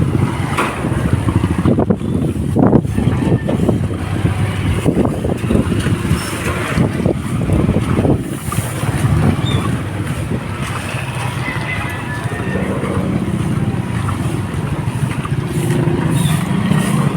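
Strong typhoon wind roars continuously at a seawall during a tropical storm, broadband rushing with gusts and buffeting against the microphone, with voices talking intermittently underneath.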